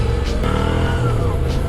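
A Moto Guzzi V7 II motorcycle engine revs up nearby, a loud, rough, throaty drone with rising pitch across a short burst and no speech over it.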